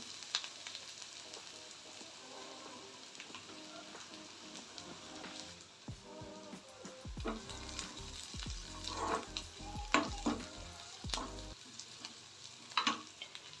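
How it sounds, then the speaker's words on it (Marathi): Chopped onion frying with a pinch of salt in a pan for upma, a faint steady sizzle with occasional stirring scrapes and crackles growing busier midway. "जेणेकरून कांदा पटकन भाजला जातो"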